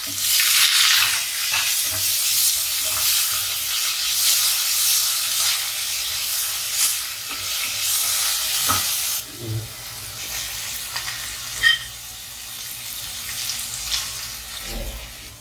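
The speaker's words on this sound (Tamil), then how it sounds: "இப்போ அந்த வெங்காயம், பச்சை மிளகாய், கருவேப்பிலை இதெல்லாம் போட்டு வதக்கணும்." Onion, green chili and curry leaves sauté in a pan for a South Indian semiya breakfast, giving a steady, close sizzling hiss with occasional scrapes and clinks of stirring that ease off partway through.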